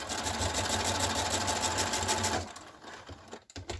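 A sewing machine stitches nylon for a dog hunting vest, a close, fast, even chatter of the needle for over two seconds before stopping, followed by faint handling noises.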